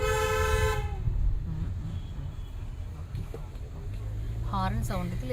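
A loud, sustained train horn blares for just under a second, followed by a rumbling railway background and voices talking nearby.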